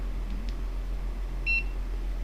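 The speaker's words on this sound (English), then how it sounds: "So when I'm riding, it's coming from the helmet, the beeping." A short electronic beep from a motorcycle helmet's turn-signal indicator, two quick high tones around the middle, faint over a steady low hum with no talking.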